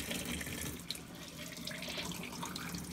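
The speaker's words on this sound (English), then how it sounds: "Let's use some hot water here on the manifold." Steady rushing spray of hot water hissing continuously at close range from a cloning bucket manifold, with no voices.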